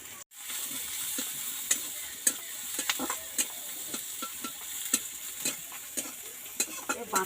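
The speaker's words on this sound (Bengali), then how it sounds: "ফোড়ন দিয়ে দিলাম।" Panch phoron spices temper in hot oil, a soft continuous sizzle after a short silent start, with intermittent stirring clicks and scrapes close by and no voices.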